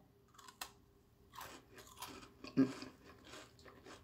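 Crunchy Moroccan almond fekkas are bitten and chewed close up, giving quiet crisp crunches in irregular bursts with one sharper bite midway, and no talk.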